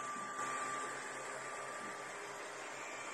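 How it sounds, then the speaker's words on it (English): An ERYONE Star One 3D printer runs its first print with transparent PLA filament, producing a steady, fairly quiet mechanical whir with a faint tonal hum, continuous and unchanging. "This is ERYONE Star One 3D printer, and it's absolutely first run."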